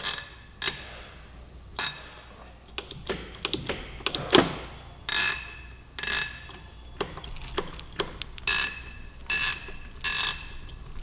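A Driven Halo clutch lever on a 2017 Yamaha R6 sportbike clicks sharply as it is adjusted. The distinct ratcheting clicks come one after another at irregular intervals, close up, with no talking.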